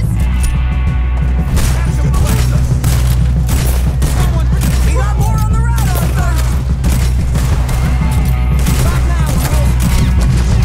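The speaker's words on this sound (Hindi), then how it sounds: "भाई मैं अंधाधुंध गोलियां चला रहा हूँ" Dense, rapid bursts of Red Dead Redemption 2 gunfire crackle continuously over a busy, loud background, with sharp impacts and booms scattered throughout.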